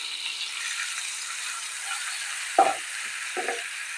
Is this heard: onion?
yes